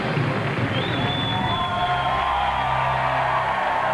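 A game show studio audience on Super Millionaire cheers and whoops steadily throughout, a continuous loud crowd roar with some yelling on top.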